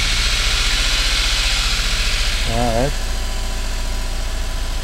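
A Geo convertible fitted with a JDM engine idles steadily and loud, with a low even chugging throughout; a short spoken word rises over the running engine near the end.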